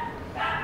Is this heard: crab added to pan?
no